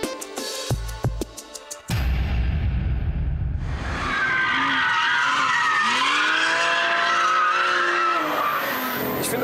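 A Porsche 911 GT3 RS drifts with a prolonged, loud tire squeal and skidding over its engine roar, following a short burst of clattering noises at the start.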